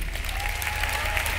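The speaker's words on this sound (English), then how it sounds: "Please give them a large round of applause" Concert audience applauding as performers return to the stage, a dense, steady wash of clapping from a large crowd with no break across the short stretch.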